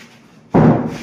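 A single heavy hammer blow lands on a piece being shaped by hand, one sharp, loud thud after a quiet moment, with no talk.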